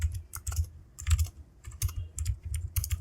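Quick bursts of keystrokes as code is typed on a computer keyboard, sharp and close, in uneven clusters with short pauses between them and no voices.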